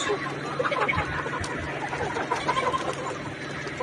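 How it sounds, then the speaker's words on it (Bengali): A flock of about 1,100 pullet chickens clucks continuously in a dense, overlapping chorus, with occasional sharper calls standing out from the steady background. "এখানে মুরগির সংখ্যা আছে এগারোশো পিস"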